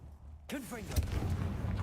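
A Confringo blasting spell goes off in a Hogwarts video game: a sudden whooshing burst with swooping tonal trails, a sharp impact about a second in, then a lingering rumbling wash of game effects.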